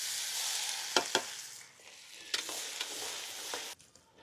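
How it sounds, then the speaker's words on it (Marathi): Cumin, mustard seeds, curry leaves and chopped garlic fry in hot oil for a methi masala, a bright continuous sizzle broken by several sharp popping crackles and stirring clicks, close and alone. "जिरे, मोहरी, कढीपत्ता, हा इथे मी चॉप केलेला लसूण घेतलेला आहे।"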